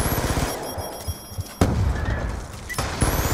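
Bomb blasts and rattling gunfire in the video game Call of Duty Black Ops II. Rapid thudding bursts give way to a heavy boom near the middle and another near the end, each followed by rumbling.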